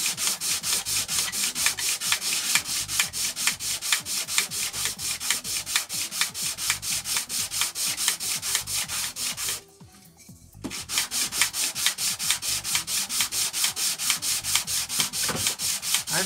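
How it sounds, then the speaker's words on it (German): Steady, rapid back-and-forth rasping of 240-grit sandpaper on workpiece edges, dense rhythmic strokes close to the microphone, broken by a brief pause about two-thirds of the way through before the sanding resumes. "Ich habe jetzt hier ein 240er Schleifpapier."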